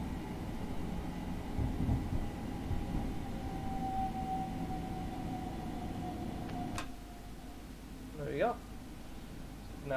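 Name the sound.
Class 377 electric train coasting in Train Simulator 2021 video game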